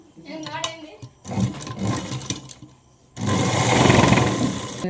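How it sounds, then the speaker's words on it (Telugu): A sewing machine stitches a folded seam on a Punjabi dress, whirring in bursts that run into a loud, steady hum near the end. "రెండో సైడ్ కూడా ఇలాగే మడత పెట్టుకొని కుట్టుకోవాలి"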